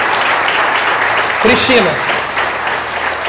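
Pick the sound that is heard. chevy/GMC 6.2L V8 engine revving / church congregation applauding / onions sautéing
church congregation applauding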